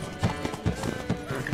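Roach, the horse in The Witcher 3, gallops in quick, close clip-clop hoofbeats about every quarter second, with a brief whinny-like tone and a faint game soundscape behind.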